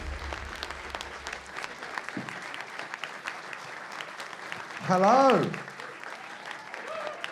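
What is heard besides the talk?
polite audience clapping at live podcast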